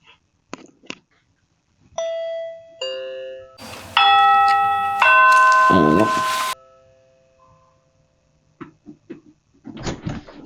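An electronic doorbell chime plays a multi-note ding-dong melody in clear sustained tones, loud and close, with brief talk before and after it.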